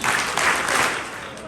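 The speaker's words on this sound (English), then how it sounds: "3 big claps for that speech" A high school audience applauds after a student candidate's campaign speech, a loud burst of clapping that peaks early and then gradually fades.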